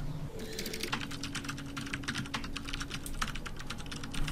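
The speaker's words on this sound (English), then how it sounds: "So they're both smashing away on their keyboards." Rapid, dense clatter of several employees hammering away on computer keyboards in the office-management game Software Inc., steady and fairly close, with a low background hum and no talking.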